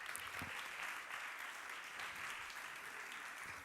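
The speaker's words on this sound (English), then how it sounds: "Big round of applause." Soft, even applause from a conference audience for a university receiving a Trainer of the Year award, steady and distant-sounding throughout with no talking.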